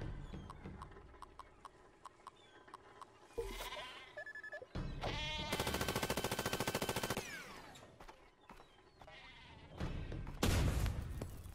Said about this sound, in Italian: Pecora, mandate una pecora.